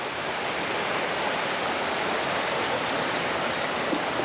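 Steady broadband rush of a river flowing beside a riverside picnic area, continuous and fairly loud with no other sounds or voices.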